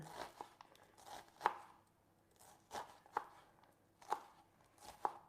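A knife chops onion on a cutting board in a home kitchen, giving several soft, irregular cuts spaced about a second apart, close and quiet, with no talking.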